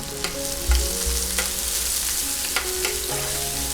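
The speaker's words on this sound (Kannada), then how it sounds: "ಒಂದು ಮೀಡಿಯಮ್ ಗಾತ್ರದ ಈರುಳ್ಳಿ ಸಣ್ಣ ಹೆಚ್ಚಿರೋದು ಹಾಕಿ ಹಾಗೂ ಒಂದು ಇಂಚಷ್ಟು ಶುಂಠಿಯನ್ನು ತುರಿದಿರೋದು ಹಾಕಿ ಚೆನ್ನಾಗಿ ಬಾಡಿಸಿ" Onion, green chillies, grated ginger and peanuts sautéing in hot oil for curd poha seasoning, a steady close sizzle with a few brief stirring knocks and clatters, no talk.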